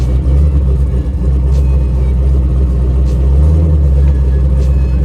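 A turbocharged LS-powered Doom Buggy with a Turbo 400 transmission runs loud and close, holding a steady heavy rumble throughout with a small rise in revs, and no voices over it.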